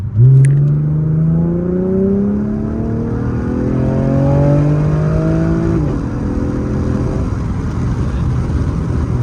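A car accelerating hard through second and third gear, its loud engine note climbing in pitch, dropping at a gear change and rising again, heard up close with no talk.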